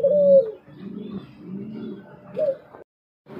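Pet pigeons coo up close in a bird-selling setting, giving several soft, low, rolling calls in a row with brief pauses and a short silence near the end.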